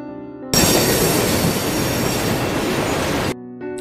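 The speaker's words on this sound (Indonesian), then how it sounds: "kereta masih berjalan menghalangi jalanan" A loud train rumbles past close by, a dense roar of wheels and rails with a screechy metallic edge, cutting off abruptly after a few seconds.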